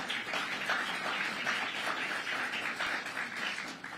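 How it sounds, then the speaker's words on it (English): An audience claps steadily in a hall during a visit by the Vice President to Durham Technical Community College, a continuous, moderately loud wash of applause with no voices over it. "we can clap for the school"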